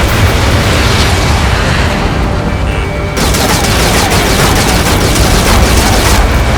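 A docking module blows up in the Ace Combat 7 flight game, a loud sustained roar of blasts and rumble with a sharp crackling burst about halfway through, no voices.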